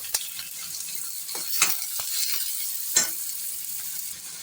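Onion, green chili and curry leaves sautéing in oil in a pan for kanda poha, a steady sizzle with occasional clinks and scrapes of stirring, close by and without talk.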